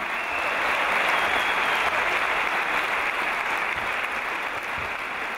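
A concert audience applauds warmly for an Armenian singer honoured on stage, with steady, dense clapping that holds at an even level throughout and no voices over it.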